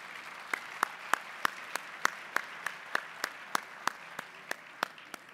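Applause at an Arch of Triumph event honoring elected officials: a soft crowd wash with one nearer clapper whose crisp, evenly spaced claps stand out above it, moderately distant overall.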